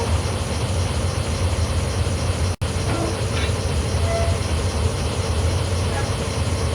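A BR18 steam locomotive rolls along the Koblenz–Trier line in Train Simulator, giving a loud, steady rumbling drone of wheels and running gear broken by one brief dropout.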